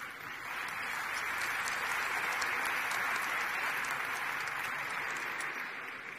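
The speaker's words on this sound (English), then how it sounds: "Let's give them a round of applause." A large conference audience applauds at an annual keynote event, a broad, even wash of many hands clapping that swells in, holds steady and fades slightly at the end, with no talking over it.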